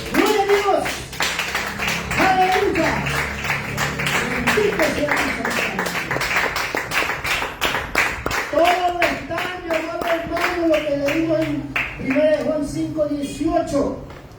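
Church congregation clapping in praise during a sermon, a rhythmic, fairly loud patter of hands running throughout while people talk and call out over it.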